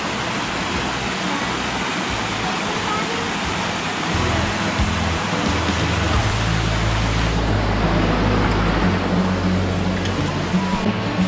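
Soco Falls waterfall in Maggie Valley, North Carolina, a loud, continuous broadband roar of falling water, with a low rumbling drone joining partway through and voices faint beneath it.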